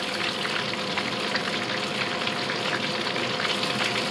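A piece of fish fries gently in a pan over lowered heat for a Thai green curry, giving a steady, close, even sizzle with no talking.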